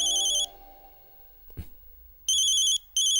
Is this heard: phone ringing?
yes